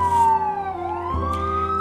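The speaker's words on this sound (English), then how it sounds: "sorry guys if you hear ambulances, because as usual, New York, and it's passing right near my window right now" An ambulance siren passes close by a window on a New York street, its loud, wailing tone sliding up and down over the low rumble of traffic.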